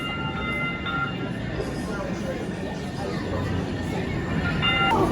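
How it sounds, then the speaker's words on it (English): A Sound Transit light rail train pulls into a station, with a steady rolling rumble and brief high tonal whines at the start and end, under faint platform babble. "a train arrives."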